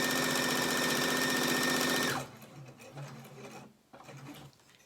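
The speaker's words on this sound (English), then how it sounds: "All right, so I'm just going to sew all around the whole thing." Home sewing machine stitching around a rectangular fabric face mask runs loud and fast with a steady mechanical whir for about two seconds, then stops, leaving faint clicks and handling noises.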